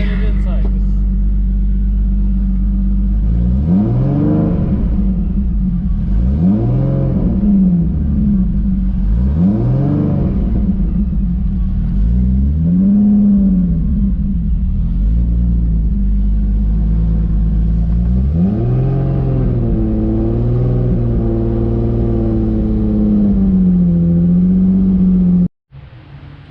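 A built turbocharged Infiniti G35 engine starts and idles with a deep steady drone, then revs up and down repeatedly in rising and falling sweeps before cutting off abruptly near the end; loud and close.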